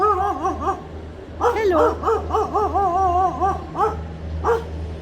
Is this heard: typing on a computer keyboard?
no